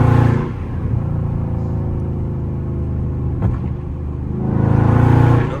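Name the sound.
Dodge Charger Scat Pack engine revving with exhaust pops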